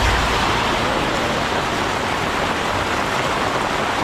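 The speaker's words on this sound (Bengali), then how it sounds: "মুষলধারে বৃষ্টি হচ্ছে" Torrential rain pours down around a small roadside food shop, a dense, loud and steady hiss that fills the whole stretch without a break, with no talking.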